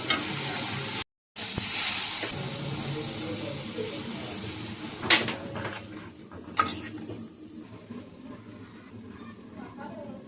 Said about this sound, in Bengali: আমি এখন রান্না করছি মাছের ঝোল।